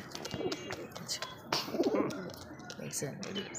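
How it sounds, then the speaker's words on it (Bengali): Red pigeons, a male and a female of a large Lahori-type breed, coo softly and intermittently in a loft while people talk throughout. "দর্শক বন্ধুরা আমরা দেখতে পাচ্ছি রেড কালারের মধ্যে এক জোড়া কবুতর"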